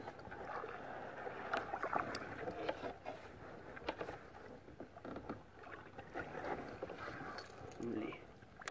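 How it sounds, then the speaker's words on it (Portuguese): Ferry boat motor on the Três Marias reservoir near the Pindaíbas crossing, a steady low engine drone carried over open water with wind noise and light water sounds, heard from a small fishing boat. "Esse barulho é da balsa."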